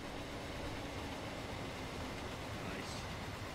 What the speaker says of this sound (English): Class 66 coming through.